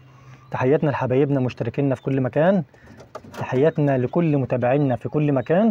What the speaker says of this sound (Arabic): حمام شغال اهوت عارضينه للبيع